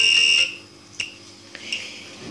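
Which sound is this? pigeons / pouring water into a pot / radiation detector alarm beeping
radiation detector alarm beeping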